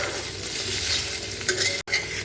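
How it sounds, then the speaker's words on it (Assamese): Pork pieces fry in oil in an iron kadai while being stirred until their fat renders, a loud constant sizzle with scraping spatula strokes and a brief clatter near the end. "এতিয়া কেৰাহীত আমি মাংসখিনি দি দিলোঁ আৰু যেতিয়ালৈকে গাহৰি মাংসখিনিয়ে তেল নেৰে তেতিয়ালৈকে আমি এনেদৰে ভাজি থাকিম।"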